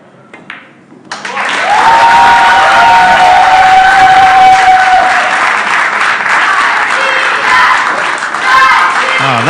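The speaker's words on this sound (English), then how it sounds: "That's the first time ever we hear this cheer in the background." A crowd at a pool tournament breaks into loud, sustained applause and cheering, a dense wash of clapping that swells quickly and holds for several seconds, with a whistle and shouts rising above it.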